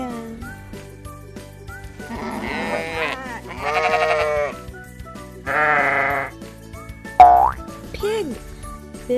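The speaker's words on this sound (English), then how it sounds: "Sheep. This is a sheep. Sheep says baa, baa." Sheep bleating, several distinct wavering baas spaced a second or two apart, close and clear, with a person speaking between the calls.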